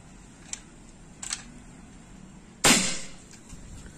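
A folding army-style PCP air rifle with side-lever magazine fires one sharp, loud shot near the end, preceded by faint small clicks and ticks of handling; no talking.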